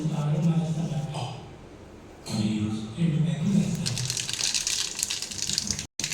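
Cumin and mustard seeds sputter and sizzle in hot oil in a home kitchen: a steady crackling hiss that grows brighter toward the end, under a background voice.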